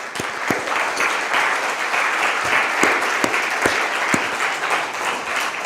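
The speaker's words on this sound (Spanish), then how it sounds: "Denle un aplauso" An audience at a church gathering claps loudly and continuously, a dense crowd of hands with a few sharper individual claps standing out.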